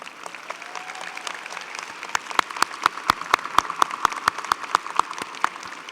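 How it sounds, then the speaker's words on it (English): Scattered hand claps from a commencement audience at Baruch College, greeting returning alumni of the classes of 1959 and 1969; sparse at first, then sharper, more frequent claps building over a few seconds. "I would also like to take a moment to applaud the alumni from the classes of 1959 and 1969"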